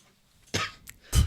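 A person coughs twice indoors, two short, sharp, close bursts separated by a brief pause, with a faint breathy sound between them and no speech.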